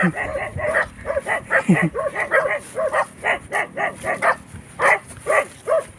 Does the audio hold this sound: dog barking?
yes